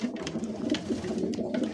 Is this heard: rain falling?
no